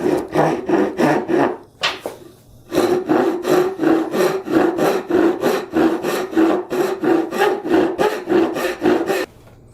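A hand saw cuts a wooden dovetail in loud, close, rhythmic push-pull strokes, about twenty in all, with a short pause near the two-second mark.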